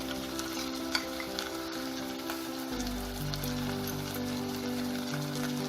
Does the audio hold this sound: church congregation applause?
no